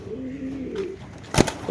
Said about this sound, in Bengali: একজোড়া সিলভার লাহরি কবুতরের বেবি